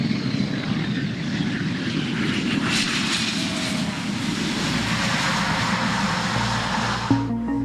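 An A-10 military jet flies with a loud, steady engine roar that holds without a break and fades slightly at the end, with no talking.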